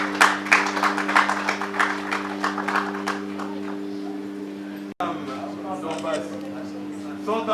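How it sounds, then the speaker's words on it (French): Applause at a civil wedding ceremony, with scattered clapping over a steady electrical hum that thins out, then people talking after a sharp break. "Applaudissez, applaudissez pour les..."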